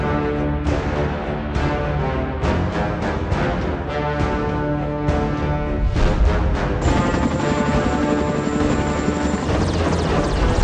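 Several military helicopters fly during a paratrooper airborne landing exercise, giving a loud, continuous, pulsing rotor roar with a rhythmic blade chop and a high turbine whine joining partway through.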